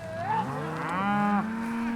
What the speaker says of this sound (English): There's a lot of cows out there.